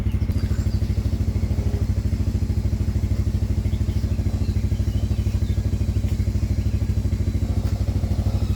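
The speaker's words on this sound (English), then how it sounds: "winching them, using the ATV" An ATV engine runs steadily while winching, with a loud, close, rapid even chugging pulse that continues unbroken throughout.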